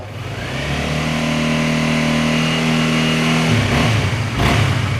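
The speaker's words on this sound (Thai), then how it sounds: "รอบเครื่องยนต์เร่งอัตราเร่งดีไม่มีสะดุดครับ" A 2023 Honda Rebel 300 motorcycle on its stock exhaust revs up and holds a smooth, rising engine note nearby for several seconds, then drops quickly back toward idle.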